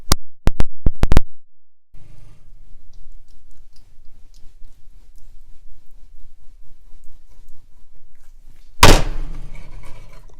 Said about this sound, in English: Then cut that into bite-sized pieces.